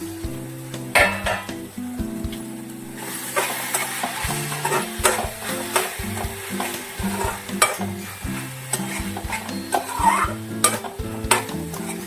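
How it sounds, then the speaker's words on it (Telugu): A fenugreek leaf and tomato curry simmers and sizzles in a pan while a spoon stirs and scrapes, with repeated metallic clinks and scrapes over a steady frying hiss, no talking. "ఇంకొక 2 నిమిషాలు మగ్గించుకుందామండి"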